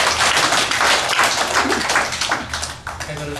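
A church congregation claps together through a Sunday service, a loud and dense wash of many hands that holds steady throughout and thins slightly near the end.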